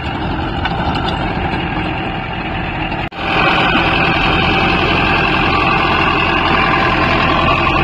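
Mahindra 605 Novo tractor working a rotavator in a field, a loud, continuous engine drone with a brief cut about midway, then a heavier roar resuming close by.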